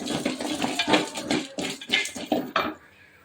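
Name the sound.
roasted gram and lentils sautéing in a pan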